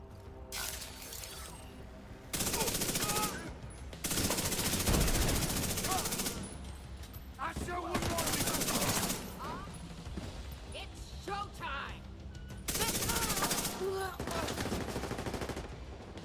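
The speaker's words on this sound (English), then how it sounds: "stop shooting at things you can't see" Bursts of automatic gunfire in The Division 2, a Tom Clancy shooter, loud and close in several sustained volleys separated by brief pauses, with voices talking in between.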